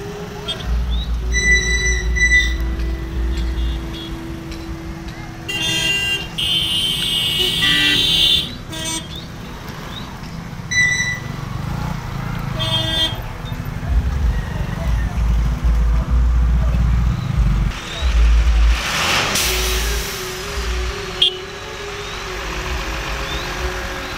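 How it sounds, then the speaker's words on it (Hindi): Busy road traffic at night around a jagran event, with engines rumbling steadily close by and sharp electronic beeps or horns cutting through at intervals, a loud continuous street roar throughout. "सामने काफ़ी ट्रैफिक हो चुकी है"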